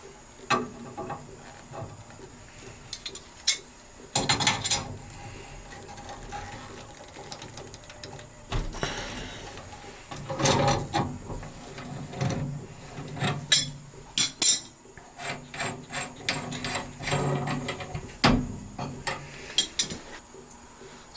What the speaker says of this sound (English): So what we're going to do is loosen the union, and then from the union backwards we're going to take apart the gas piping.